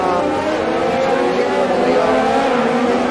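Race cars in an F1 video game drone steadily through a Brazil grand prix, engine notes layered and continuous at an even loudness, with commentary voices talking over the engines throughout.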